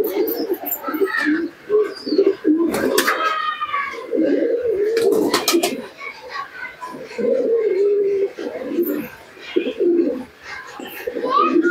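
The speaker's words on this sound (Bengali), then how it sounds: "কবুতর তোমাদেরকে দেখাচ্ছি" Pigeons cooing at close range in a loft where they are kept and fed grit, steady low throaty coos running almost continuously with a few brief higher chirps and flutters mixed in.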